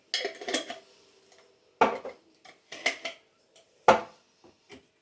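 A spoon mixes a large spoonful of baking powder into flour in a bowl for homemade bread, giving a few quick, irregular clinks and scrapes against the bowl with quiet gaps between.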